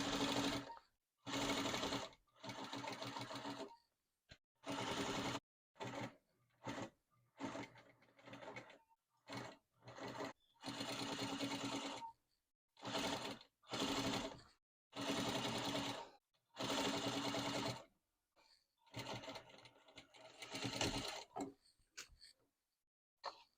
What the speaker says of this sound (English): we're going to go to the sewing machine